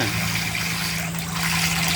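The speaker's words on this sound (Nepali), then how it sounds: "यसले चाहिँ वाटरलाई पानीलाई एकदम यसो घुमाइरहन्छ क्या त" Water churns and hisses constantly over a low, steady motor hum in a biofloc fish tank, with no pauses.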